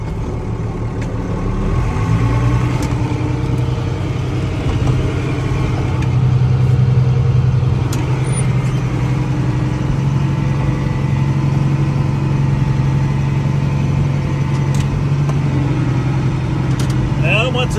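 A two-wheel drive tractor engine runs steadily in deep snow while loading bales, a close, continuous low rumble with a brief rise in pitch midway, sustained throughout.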